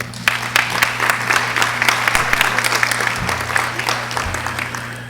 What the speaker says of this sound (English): a nice round of applause for Nathalie, our moderator